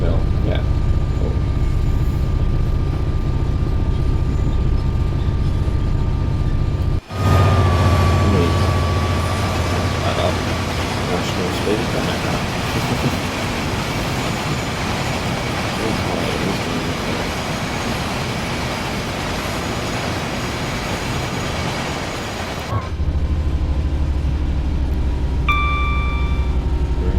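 A heavy Class 59 freight locomotive roars past up close, climbing uphill, its dense engine noise and rumbling wagons filling about fifteen seconds, with a steady hum before and after.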